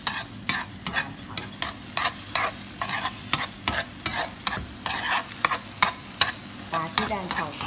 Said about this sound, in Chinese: 用筷子炒鸡蛋